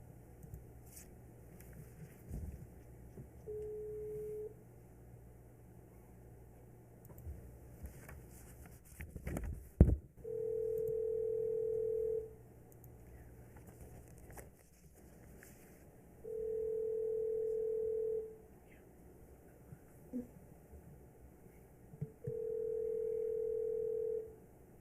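A telephone line during a city council meeting hall call gives a short tone, then three long, steady tone bursts spaced several seconds apart over faint room noise.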